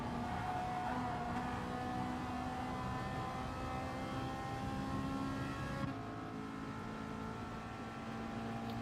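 Ferrari and McLaren cars in a midfield pack during a sim racing game at Goodwood, engines droning steadily and loudly throughout with layered revving tones, no talk.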